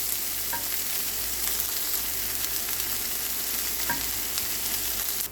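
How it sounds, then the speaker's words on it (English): Ground beef browns in a hot pan with peppers, onions and garlic, giving a steady, loud, close sizzle and crackle that runs unbroken throughout. "you're going to brown your meat until it's completely brown"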